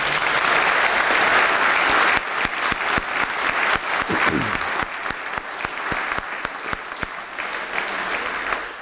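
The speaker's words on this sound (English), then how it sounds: "whoever was starting a clap, I think that's what's appropriate" A lecture audience breaks into applause at a public physics lecture, starting as a dense roar of clapping that thins after a couple of seconds into scattered, distinct individual claps continuing for several more seconds.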